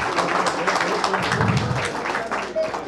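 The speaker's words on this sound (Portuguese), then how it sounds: "Um aplauso para vocês." An audience breaks into applause, a full dense clapping that holds steady and fairly loud across the whole moment, with voices mixed in.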